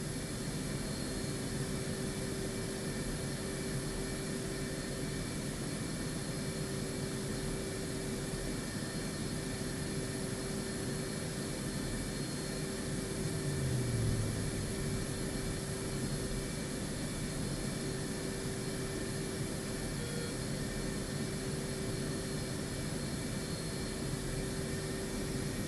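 F-16 jet engine in the flight simulator DCS World, a constant droning roar with a steady tonal whine, holding level throughout with a brief swell midway.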